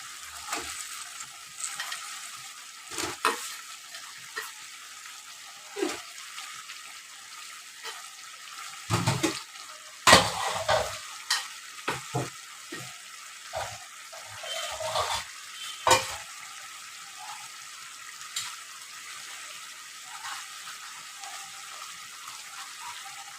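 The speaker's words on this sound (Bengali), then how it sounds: "এবার এই সিচুয়েশনে আমি আলুগুলো দিয়ে দেবো" Potatoes stirred in a frying pan, a steady hiss of frying with irregular loud scraping and clattering stirs through the middle, no voices.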